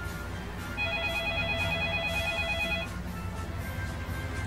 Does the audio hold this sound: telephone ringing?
yes